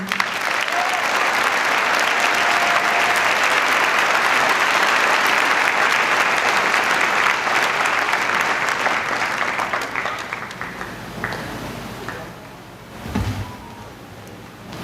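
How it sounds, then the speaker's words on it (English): Large audience at a college commencement ceremony applauding loudly and steadily for about ten seconds before tapering off, with a voice coming in near the end. "One more round of applause for our two brilliant keynote student speakers."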